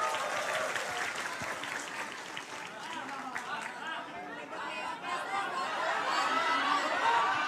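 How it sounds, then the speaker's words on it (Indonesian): Audience at a public Q&A event clapping steadily, with chatter and some laughter mixed in, and voices carrying over the applause. "Tepuk tangan sekali lagi buat Antonius"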